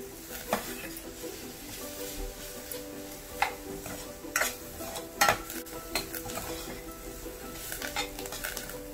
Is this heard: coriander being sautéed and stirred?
yes